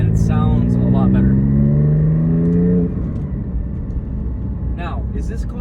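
Exhaust note of a Porsche Cayman GT4 (718) fitted with a valve controller and over-axle pipes, a loud, close, rising rev with a higher-pitched tone, then a drop to a rougher rumble near the end.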